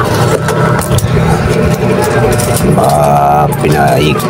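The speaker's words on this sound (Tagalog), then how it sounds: "pinaandar ko ng grinder" An angle grinder cuts into hardened concrete during construction work, giving a loud, close, continuous whine with gritty scraping and a pitch that rises and shifts partway through.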